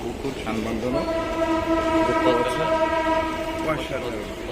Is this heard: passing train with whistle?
yes